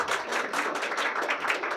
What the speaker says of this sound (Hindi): Everyone, big round of applaud for her.